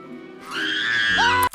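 A toy monkey's shrill scream in Toy Story 3, voiced by director Lee Unkrich, rises loud and strained for about a second before cutting off abruptly.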